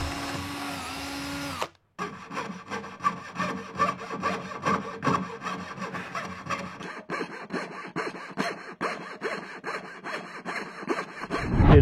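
A scroll saw cutting wood for a puzzle and lettering project, its blade chattering in a fast, steady reciprocating buzz that stays loud and close, after a brief pause near the start.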